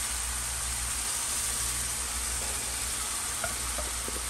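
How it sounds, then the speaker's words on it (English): Half an onion sizzles in a pan for a breakfast burrito, a loud, steady, close hiss of frying that continues without a break, with a few faint clinks near the end. "now I'm gonna add the onion."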